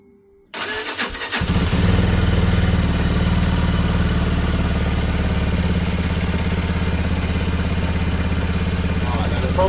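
A Lexmoto Isca 125 motorcycle engine cranks and catches after a brief quiet start, then settles into a steady, loud, close idle that runs unbroken to the end.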